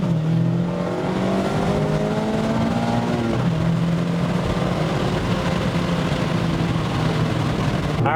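A Mazda Miata ND's engine revs hard through an acceleration pull. The tone climbs steadily, drops sharply at a gear change around three seconds, then climbs again, loud and continuous from inside the car.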